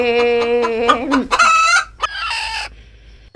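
A chicken clucks and squawks loudly up close in a rapid burst of calls, with a short break before a final cluck.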